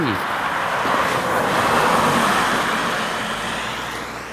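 Cars roll along a quiet residential street in Sherbrooke on a December evening, a steady, fairly close wash of tire and engine noise that swells in the middle and eases off toward the end.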